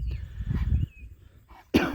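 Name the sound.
cattle coughing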